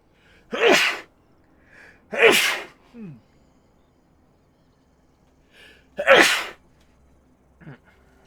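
Three sharp, loud sneezes from one person, spaced a second or more apart, each followed by a quick gasp or short breathy sound.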